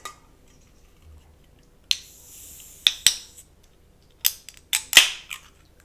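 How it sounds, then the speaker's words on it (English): A can of lemon lime sparkling water being opened gives a series of sharp, close clicks and cracks, then a brief hissing burst amid several quick snaps. "So let's open this soda first."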